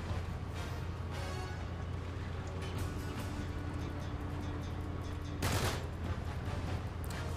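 Gunfire in Uncharted 3 during the Rough Seas chapter, a dense steady rattle of shots over a low rumble, with a sharper burst of noise near the end.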